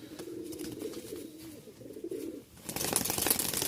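Giribaz pigeons at a sale in Rajshahi coo in soft, low, throaty murmurs for a couple of seconds before a burst of broader rustling noise takes over.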